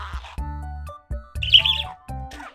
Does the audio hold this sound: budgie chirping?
yes